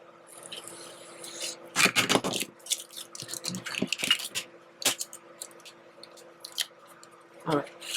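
Scissors cut through a sheet of paper in a few short snips with crisp rustling, close and moderately quiet, with a louder crumpling burst near the start and occasional handling noises.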